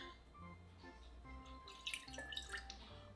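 Water poured onto a kitchen scale while measuring out 60 grams for a sourdough starter, a faint, brief trickle and splash in a quiet room.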